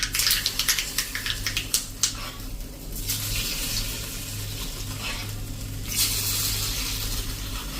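Hot sesame-seed tempering (vaghar) poured over khandvi crackles and sizzles steadily, with bursts of spattering at the start and again near the end over a low background hum.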